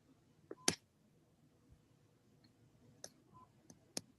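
A few sharp, isolated computer mouse clicks, one double click near the start and single clicks later, faint and close in a quiet room with no talking.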